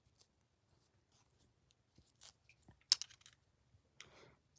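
Quiet, close snips of scissors cutting the backing of a beadwork piece, scattered small crisp cuts with one sharper snip near the middle, in an otherwise hushed room.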